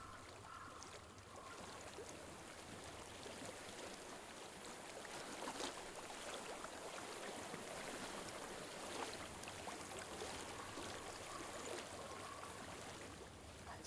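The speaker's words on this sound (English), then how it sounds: "Water. I hear water." A flowing stream in the game Hellblade: Senua's Sacrifice gives a quiet, continuous rushing and trickling of water, steady and fairly faint, with no talk over it.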